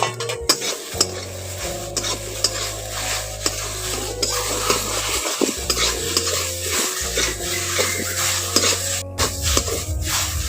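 Paratha filling of water chestnut with coriander powder, cumin, sugar and salt fries and is stirred in a pan, a steady sizzle under repeated scraping and clinking of a spatula against metal, close and fairly loud.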